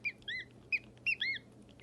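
A person imitates a duck, giving quick nasal quacks in short bursts to coax ducklings toward hatching, close and fairly quiet with no other sounds around.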